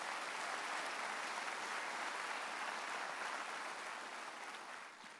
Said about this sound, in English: Could we acknowledge their presence with a round of applause?